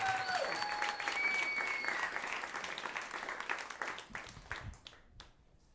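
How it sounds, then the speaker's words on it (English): An audience applauds for a stand-up comedian at a comedy show, dense clapping near and loud at first, with a brief whoop, then thinning out and fading over several seconds. "Make a lot of noise for your next comic, Mr. Scot Shanahan."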